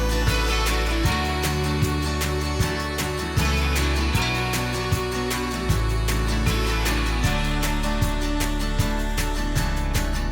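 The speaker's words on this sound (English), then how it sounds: "I did something a bit different here where I started the song with an instrumental hook." Folk-style instrumental hook in a full wall-of-sound arrangement, with a repeating melodic phrase over steady strummed chords and a punchy low beat, loud and dense throughout with no voices.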